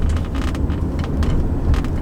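A 2009 Toyota Camry Hybrid with a CVT drives through a high school parking lot, a steady low road and drivetrain rumble with wind noise inside the cabin, constant and fairly loud.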